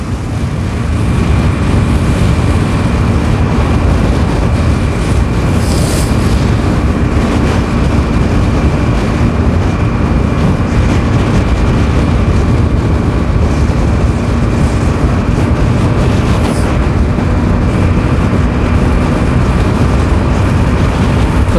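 Bajaj Pulsar NS160 BS4 160cc motorcycle ridden at speed with a pillion, a loud continuous engine drone buried in heavy wind rush, steady throughout with no pauses.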